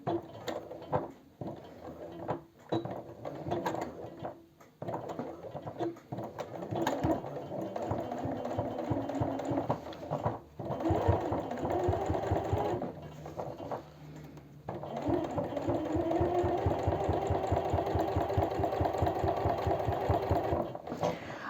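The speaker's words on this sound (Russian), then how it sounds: "сначала я отворачиваю и прокладываю строчку вдоль сгиба" Sewing machine running a line of stitching along the fold of men's jeans denim, a steady close mechanical whir that starts and stops in short bursts, then runs continuously through the latter half.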